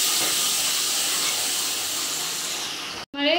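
Garlic and ginger paste fries with chillies in hot oil, giving a soft, steady hiss that fades slightly before cutting out abruptly near the end.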